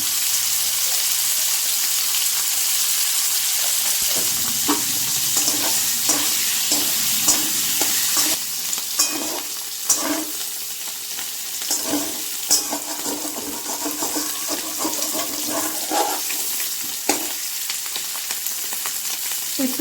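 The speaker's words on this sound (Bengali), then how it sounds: "লাল লাল করে এটা ভেজে নেব" Boiled, salted cauliflower frying in a pan: continuous loud sizzling with irregular scraping and clattering as the pieces are stirred and turned.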